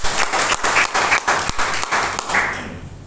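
A church congregation breaking into loud applause, dense clapping with a few sharp accents that holds steady for most of the stretch before gradually fading out.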